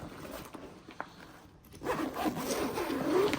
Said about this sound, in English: Zips all the way around.